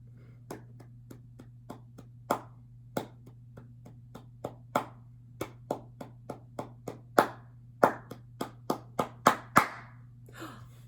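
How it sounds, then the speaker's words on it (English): Hand claps beaten out in a rhythmic pattern during a children's music lesson, single sharp claps spaced apart that come faster and louder toward the end, over a steady low hum and no talk. "Let's practice that second time when we're going to clap it without the words."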